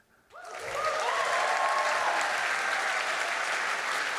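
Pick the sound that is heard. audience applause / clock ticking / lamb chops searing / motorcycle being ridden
audience applause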